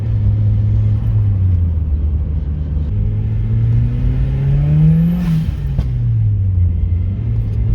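A turbocharged 200 whp Mazda Miata in first gear revs hard and close, its engine note climbing steadily before dropping back, with a brief sharp hiss near the peak.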